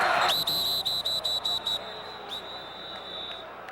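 Referee's whistle at a CFL football game between the Montreal Alouettes and Calgary Stampeders, a rapid series of six or seven short shrill blasts, then two longer ones, over a distant stadium crowd murmur.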